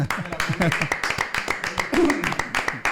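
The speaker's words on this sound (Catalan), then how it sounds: "Avui tenim un públic, un fort aplaudiment" A small studio audience applauds on a talk show, giving a steady patter of quick claps throughout while people keep talking over it.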